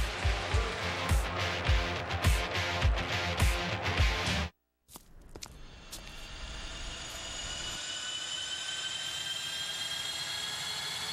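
Commercial jet airliner engines fire up with a rising whine and a steady, loud roar. They play alone after a burst of rhythmic music that cuts briefly to silence.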